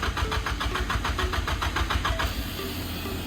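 A new SR20 engine in a Nissan Silvia, freshly converted from NA to turbo, cranks with rapid rhythmic pulses for about two seconds, then catches and settles into a steady, close, loud idle.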